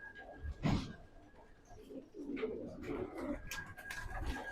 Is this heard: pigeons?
yes